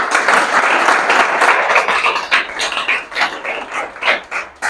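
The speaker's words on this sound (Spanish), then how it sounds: "Puedes darle un aplauso al Señor." A church congregation at a Sunday service applauds steadily, the clapping dense at first and then thinning into uneven bursts toward the end.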